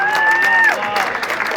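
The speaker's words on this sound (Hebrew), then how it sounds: "מחיאות הכפיים שלכם" Wedding guests clap and cheer steadily, a broad crowd wash under a voice speaking over a microphone.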